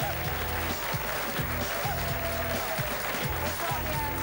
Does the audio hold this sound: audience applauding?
yes